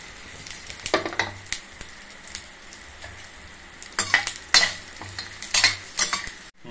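Coriander seeds, cumin and dal dry-roasting in a pan give a faint background crackle, broken by repeated scraping stirs and rattling bursts of the seeds from a close utensil.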